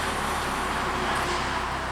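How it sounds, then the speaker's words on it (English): Steady broadband road traffic rumble beside a main road, heard outdoors during work on a 1985 Pontiac Fiero, with wind noise mixed in; a continuous, even wash with no distinct passing vehicles. "pardon the road noise and pardon the wind noise"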